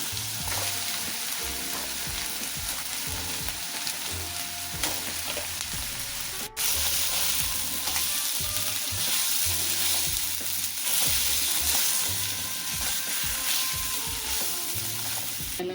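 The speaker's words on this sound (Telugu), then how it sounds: "ఈ ఆనియన్ పేస్ట్ అవి వేగిన తర్వాత ఉడకబెట్టుకుంచుకున్న పీతల్ని దీంట్లోకి వేసేస్తాం" Boiled crabs frying with onion paste in a pan make a continuous loud, crackling sizzle, with scattered scrapes and clatters of stirring and one sharp click partway through.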